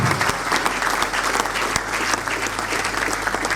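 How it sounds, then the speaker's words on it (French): A conference audience in Kongo Central, Matadi, greets a professor with loud, sustained clapping from a large crowd, dense and continuous throughout, with a faint voice briefly audible. "On peut le recevoir avec beaucoup d'ovation"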